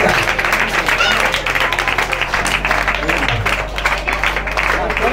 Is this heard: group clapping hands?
yes